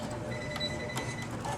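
A sewing machine stitches shadow applique fabric with a fast, even mechanical whir and faint ticking, steady and close but quiet, without talking.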